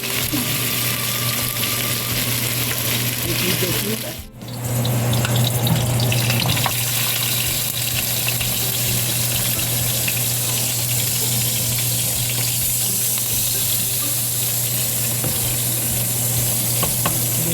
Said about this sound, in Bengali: অল্প তেলে এরকম লালচে করে ভেজে আমি সবগুলো তুলে নেব।